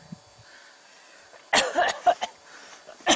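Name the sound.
cough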